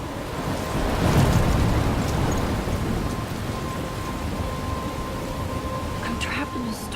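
Steady thunderstorm rain from the Life Is Strange video game, a dense hissing downpour with a low rumble of thunder swelling early on, continuous and fairly loud throughout, with a voice faintly present.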